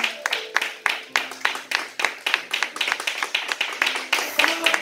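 A church congregation claps in praise during a morning service. Sharp, fairly close hand claps come in a quick, slightly uneven rhythm and fall into a steadier beat, with faint voices and tones underneath.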